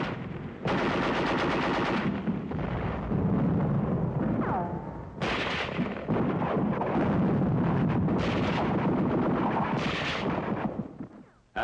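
Artillery and machine-gun fire near Bastogne in 1944, heavy rapid bursts of booming reports in long loud volleys separated by brief gaps, harsh and close, stopping abruptly at the end.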